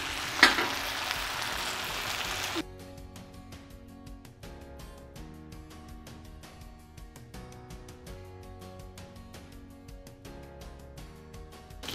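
Sabudana and spinach tikki patties sizzle in very hot oil with a loud, hissing fry at first. The sizzle then drops under steady background music for the rest of the clip.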